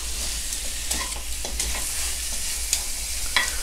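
Pork ribs sear and sizzle in a hot pan, a steady close frying hiss with occasional crackles and pops, no talking.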